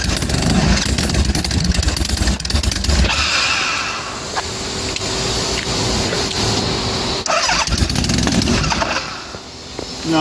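An engine on test runs at idle, then is lifted just off idle and settles back, a loud, close, steady mechanical drone with a rough, busy texture and no talking.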